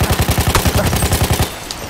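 Rapid automatic gunfire in the video game Battlefield 1, a loud close burst of about a dozen evenly spaced shots that stops after roughly one and a half seconds.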